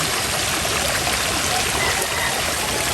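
A swollen river in flood flows past close by, a dense, steady rushing and gurgling of water with no break.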